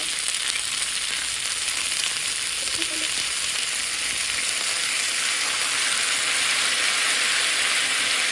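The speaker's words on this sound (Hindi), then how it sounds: "देन फिर आपने कबाब अपने रखने हैं और फिर अब आप लोगों ने ग्रिल करना है।" Butter malai kebabs and onion rings sizzle steadily on a grill, a continuous close hiss of frying that holds even throughout with no voices.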